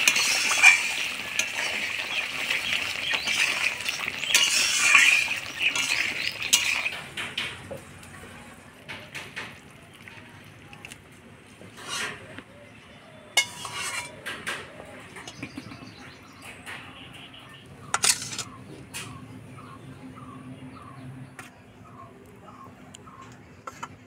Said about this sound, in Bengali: ঘি, গরম মশলার গুঁড়া দিয়ে নাড়াচাড়া করে নামাই দিব।